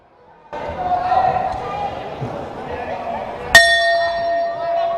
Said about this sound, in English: Bell for round number 3.